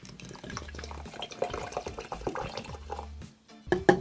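Hydrogen peroxide solution mixed with a couple of spoons of ordinary salt is poured into a small jar, giving a close, continuous liquid trickle and splash that pauses briefly near the end, with no one talking.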